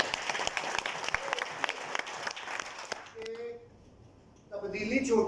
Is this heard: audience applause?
yes